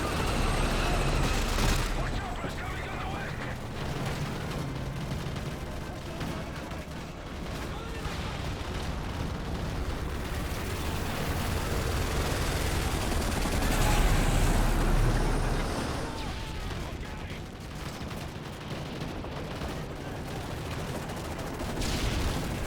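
Sustained gunfire from a low-recoil weapon in the video game Modern Warfare 3 roars densely and continuously, layered with battle noise. Muffled voices and shouting run through it.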